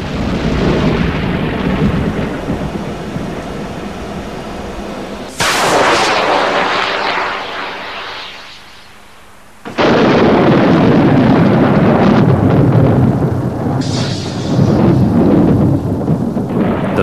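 A rocket-triggered lightning strike sets off loud, rolling thunder, with a sharp crack partway through followed by a fading rumble, then another heavy roaring burst that stays loud to the end.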